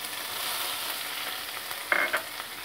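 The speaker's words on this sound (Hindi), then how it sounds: "और अच्छे से भून लेते हैं प्याज को गोल्डन ब्राउन कलर आते तक" Onions with fennel seeds and ginger fry in a pan, giving a steady close hiss with soft stirring clicks near the end and no talk.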